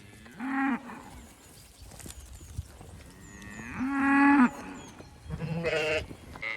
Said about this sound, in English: Cows are curious.